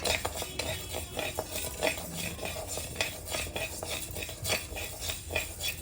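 Rice roasts in a pan over a low flame for sugar-and-gram-flour sweet balls, stirred continuously with a spoon: close, busy scraping and rattling of grains against metal with light clinks throughout.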